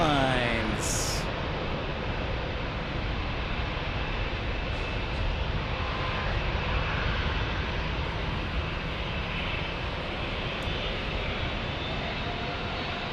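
An American Airlines airliner touches down at San Diego airport, a steady broad engine roar holding close and loud throughout with no clear change, while people chat faintly underneath.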